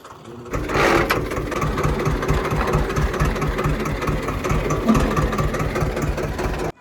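A diesel tractor engine idles steadily after a brief start, its low rhythmic chugging loud and close, with no voices.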